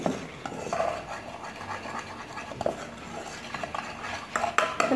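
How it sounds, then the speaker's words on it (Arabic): A spoon stirring a milk mixture in a bowl, with steady scraping and clinking strokes that run continuously at close range and are heard alone. "كناخذوا شويه ديال الحليب نخلطوا هذا الشيء"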